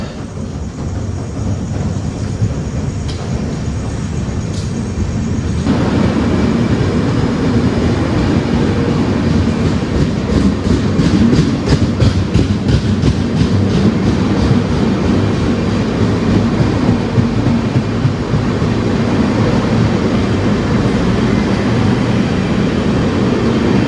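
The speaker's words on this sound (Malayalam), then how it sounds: "മംഗള ലക്ഷദ്വീപ് എക്സ്പ്രസ് ഇവിടെ നിന്ന് ഡിപ്പാർട്ടായി പയ്യന്നൂരിൽ നിന്ന്" The Mangala Lakshadweep Express departing Payyanur station on the Konkan Railway, a loud steady rumble that swells after a few seconds as the train pulls away, with rhythmic wheel clatter close by and no talk.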